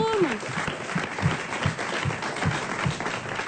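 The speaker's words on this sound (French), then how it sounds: "Merci, on applaudit Merci Jérôme." A radio studio audience applauds a guest, the clapping steady and fairly close, with a voice briefly heard over it near the start.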